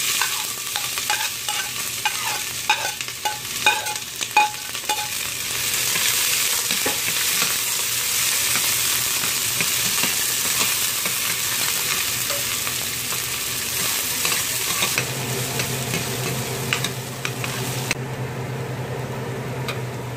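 Garlic and onion sautéing together in a pan, a loud, even sizzle with rhythmic stirring clatter early on, then a steadier hiss joined by a low hum near the end, with no talking.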